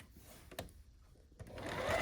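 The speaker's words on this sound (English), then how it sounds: "now I'm sewing my block 3 of row 1 to row 1" A domestic sewing machine runs in short bursts, stitching rows of quilt blocks together during grid piecing, its motor whir rising toward the end with light handling noise between runs.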